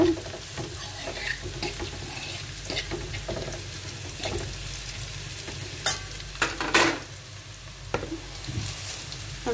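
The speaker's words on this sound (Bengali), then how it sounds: "এই তো পেঁয়াজগুলি একটু ব্রাউন হয়ে আসছে, এখন আমি এর পাতা দিয়ে দিব।" Onions sizzle softly in a pan as they brown, with jute leaves going in, under a quiet frying hiss broken by scattered clinks and scraping stirs from a spoon.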